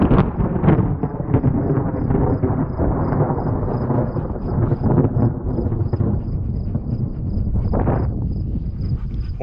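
Low rumbling thunder from an approaching lightning storm rolls continuously in the open outdoors of a Montana prairie, loud and sustained, with a faint high insect chirp running steadily above it.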